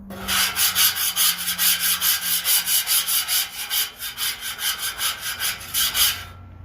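A metal scraper rasps repeatedly across the hot steel surface of a new Blackstone griddle during seasoning, a loud, close, rhythmic back-and-forth scraping of about twenty strokes with no speech.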